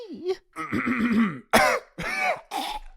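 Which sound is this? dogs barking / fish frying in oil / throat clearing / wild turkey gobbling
throat clearing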